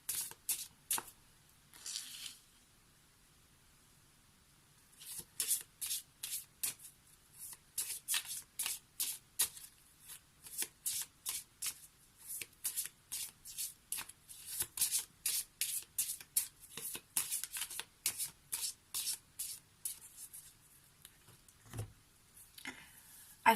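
Lenormand oracle cards being shuffled by hand, with a long run of crisp rapid riffles and flicks close up, briefly quiet early on and then steady and rhythmic throughout.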